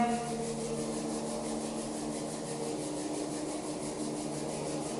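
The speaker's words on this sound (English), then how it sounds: "Take your hands and go ahead and rub them together." Two hands rubbed briskly together during a qigong and tapping exercise, a steady close dry friction hiss that keeps an even level throughout with no pauses.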